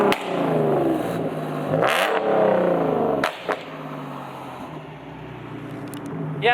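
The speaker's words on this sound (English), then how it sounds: "Give us one more rev just so they can hear how actually loud it is." A Nissan 350Z with muffler deletes revs loudly up close, its raspy exhaust rising and falling through a few sharp blips before settling back.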